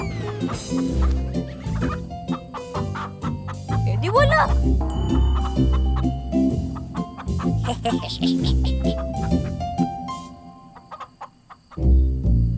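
Chickens cluck and squawk repeatedly at close range, overlapping with people talking loudly nearby.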